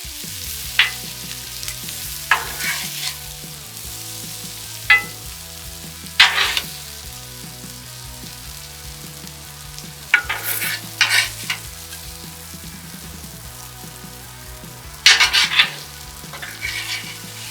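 Steak fajita meat and vegetables sizzle in a cast iron pan, a steady close frying hiss broken by scraping stirs and clanks of a utensil every few seconds.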